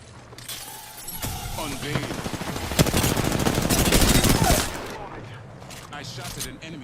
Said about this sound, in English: I shot at an enemy shield.